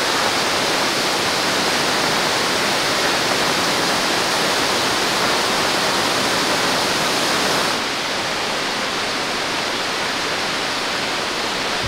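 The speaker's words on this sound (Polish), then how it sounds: "płynie sobie rzeczka." A small river runs over rocks near Australian waterfalls, a dense, continuous rushing wash at steady loudness for the whole stretch, dropping slightly in level near the end, with no voices.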